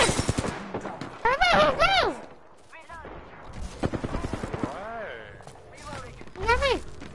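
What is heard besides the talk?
gunshots in the video game Fortnite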